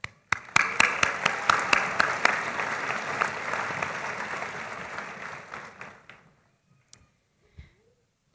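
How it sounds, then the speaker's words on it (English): A graduation audience at Scottsbluff High School applauds a teacher: a few sharp, distinct claps grow into a steady crowd applause that fades out after about six seconds, leaving a couple of isolated claps in near silence. "I'd like to pause and give a round of applause to Mrs. Rotherham"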